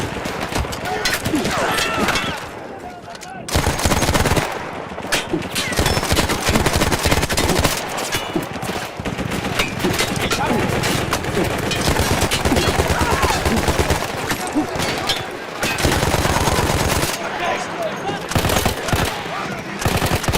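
Machine gun fire from the Battlefield 1 campaign, a stationary gun taken from Austro-Hungarian troops, rattling in long loud sustained bursts with brief pauses, mixed with other battlefield gunfire and shouted voices.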